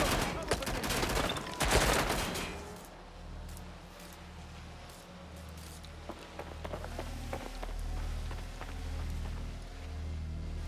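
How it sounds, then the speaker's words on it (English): Gunfire in Watch Dogs: Legion: a loud burst of shots early on, then scattered fainter pops and clicks over rumbling ambient sound. "Gunfire over here."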